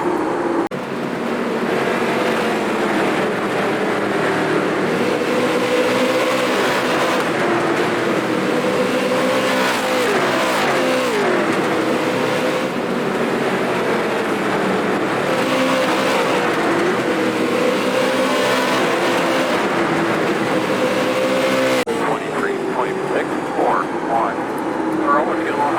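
Street stock race cars circling USA International Speedway in the iRacing video game roar steadily and loudly throughout, engine tones rising and falling as they pass, with a driver's voice occasionally speaking over the constant drone.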